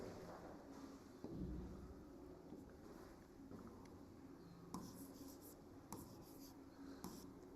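Chalk or pen strokes from a teacher writing notes on a board during a Hindi-language biology class, faint scratchy bursts scattered over a steady low hum of room noise.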